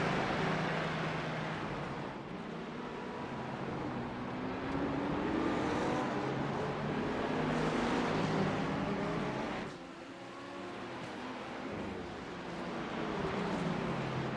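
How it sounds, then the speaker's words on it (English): Race car engines in a sim racing game at Daytona road course, a dense, continuous roar of several cars with rising and falling pitch as they accelerate and pass, steady and mid-loud with no talk. "Just listen to those cars, though. They just sound so cool."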